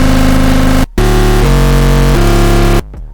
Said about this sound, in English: so without the chorus it sounds like this.